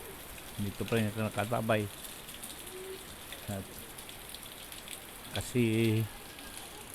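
Steady typhoon rain patters outdoors near a barangay hall, a soft continuous hiss beneath someone talking in short bursts.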